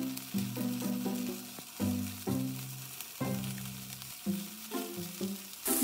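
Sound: tofu sizzling as it fries in oil in a pan

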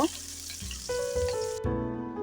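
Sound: chopped onions frying in a frying pan

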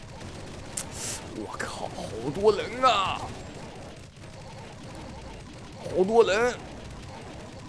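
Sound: gunfire from machine guns and pistols in video game CSOL

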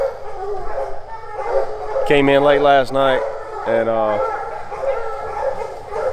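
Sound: bear hunting hounds barking at camp

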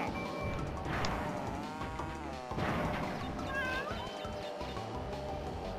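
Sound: cat meowing

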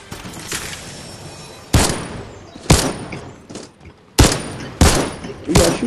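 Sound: gunfire in the video game Fortnite

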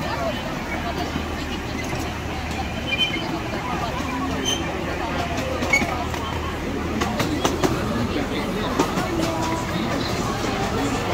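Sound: Diamond Valley Railway miniature train running on tracks

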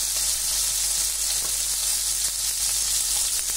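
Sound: Gadré surimi crab sticks frying

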